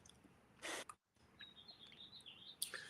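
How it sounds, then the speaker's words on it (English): Thin, high bird chirps trill faintly through a quiet outdoor background, broken by a couple of short louder rustling bursts. "So, I hear the birds. You hear them?"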